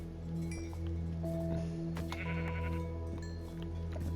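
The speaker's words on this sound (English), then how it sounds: "there's a little sheep" Sheep in Minecraft bleating a few times over a steady game background hum, with light clinking and rustling in between, moderately quiet and without speech.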